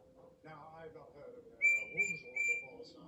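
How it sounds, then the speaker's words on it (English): A Thomas the Tank Engine train whistle sounds in a game, three short, fairly faint high toots in quick succession, following soft tonal background music. "let's ride Thomas then, because Thomas has the right whistle"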